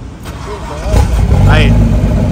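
A turbocharged Caravan car engine cranks and catches partway through, then settles into a loud, steady running rumble close by, with voices talking over it.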